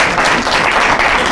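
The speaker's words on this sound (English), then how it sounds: "Can we give him another round of applause?" Loud, dense applause from an audience at a county public works blizzard appreciation event, a continuous close wash of many hands clapping with no gaps for the whole short stretch.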